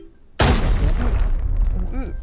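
A grenade goes off with a sudden loud boom in the Arena Breakout shooter game, followed by a long rumbling, debris-filled tail, while a player talks excitedly over it.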